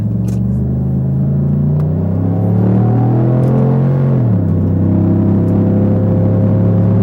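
A Pontiac Grand Prix GXP accelerates hard, its engine droning loud and close with rising pitch, dipping briefly as it shifts gear and then pulling strongly again.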